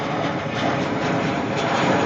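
A Jetstar airliner flies over Auckland Airport, giving a continuous broadband jet roar that stays steady and fairly loud through the short stretch, with no speech.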